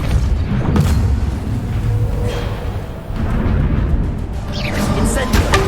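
A Depulso spell lands in Hogwarts Legacy with a dull, booming thump amid steady game ambience and a spoken voice, followed by further muffled impacts.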